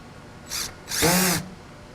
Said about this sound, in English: Drive the screw all the way in until the felt part of the bit actually touches the surface of the trim